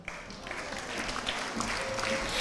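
Colleagues rise for a standing ovation at a civic award ceremony, dense continuous clapping filling the room, moderately loud and even throughout the short stretch.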